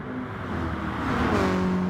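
A Nissan GTR race car engine in a racing video game roars loudly and steadily, with its pitch climbing as it accelerates through a gear and no voices over it.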